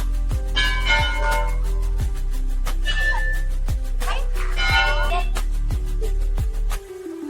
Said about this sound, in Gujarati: અને સામે ગોલુ દેવતાનું મંદિર છે, જ્યાં તમે ઘંટડીઓનો અવાજ સાંભળી શકો છો.